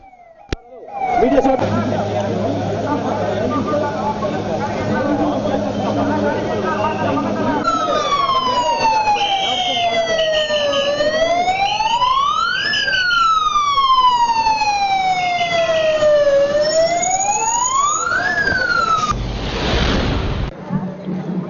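An air raid siren sounds during a civil defence mock drill, wailing and rising and falling in long sweeping cycles over steady background rumble and voices, loud and carrying, then cuts off near the end.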